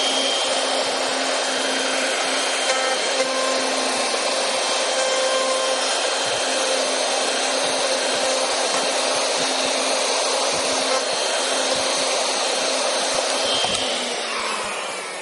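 Hand router cutting wood, a loud, steady high-pitched whine with a grinding, rasping edge, held close and continuous for the whole stretch before easing slightly at the end, no talking.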